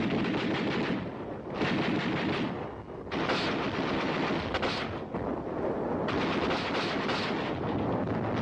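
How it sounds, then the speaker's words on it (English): An auto rifle fires sustained, loud bursts in a Korean War setting, dense rattling volleys that pause briefly and then resume, with a heavy battlefield roar throughout and no talk. "The auto rifle."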